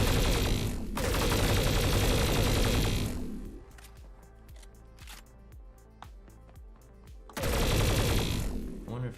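Automatic gunfire from an enemy's gun in a shooter video game: dense, loud bursts at the start and end, with a sparser run of separate sharp shots in between.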